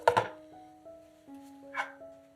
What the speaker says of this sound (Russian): Пучок зелени измельчаем ножом